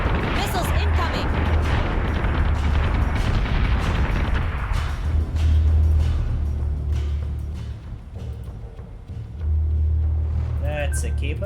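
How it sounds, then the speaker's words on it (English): Missile launches and gunfire in a space battle from the Battlestar Galactica Deadlock video game, loud continuous rumbling booms and bursts with a heavy low drone, briefly easing before surging again. "Missiles incoming!"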